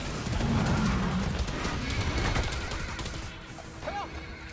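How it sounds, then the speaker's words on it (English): Vortex grenade exploding in the co-op sci-fi shooter The Anacrusis, a loud, dense burst of crackling noise amid gunfire that fades out over a few seconds, with brief voices underneath. "Vortex grenade out."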